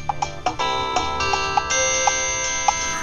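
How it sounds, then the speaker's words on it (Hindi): A phone ringtone plays a bright, repeating electronic tune with short chiming notes, clear and close for a few seconds. "अरे सृष्टि तो अपना फोन यहीं भूल गई।"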